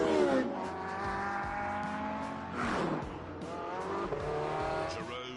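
Cars driven hard in The Grand Tour game, engines revving and shifting through gears with tyre squeal and skids, close and loud, several sweeping passes over about five seconds.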